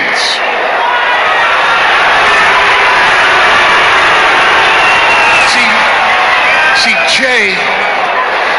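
A game crowd boos in the arena of the WWE 2K25 wrestling video game, a loud, steady roar that fills the whole stretch beneath a voice.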